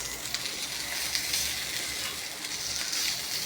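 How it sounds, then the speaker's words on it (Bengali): Eggplant and pointed gourd slices fry in a pan with a steady, close hiss of sizzling oil that holds evenly throughout, with no voices. "আজকে বেগুন পটল ভাজতেছি।"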